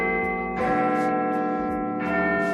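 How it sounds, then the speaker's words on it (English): Big Ben's Westminster chime in London, large church bells ringing out in sequence with long sustained tones. Fresh strikes land at about half a second and two seconds, each layering over the lingering resonance of the ones before. "the famous Westminster chime that some minute repeater timepieces mimic"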